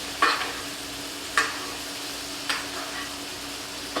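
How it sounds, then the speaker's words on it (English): Steak basted with butter, garlic and thyme in a tilted pan, a low steady sizzle broken by three or four sharp spoon-scrape splashes spaced about a second apart. "you're just going to tilt it up just a little bit, and you're just going to baste your steak"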